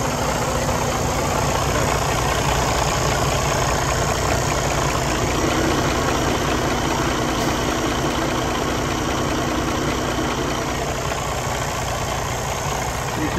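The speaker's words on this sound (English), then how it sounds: "Let's go out and have a listen to the engine running" A 2018 Freightliner Cascadia with a DD15 diesel engine idling, a loud, steady, close-up rumble with a constant rhythmic clatter and even drone throughout, no speech.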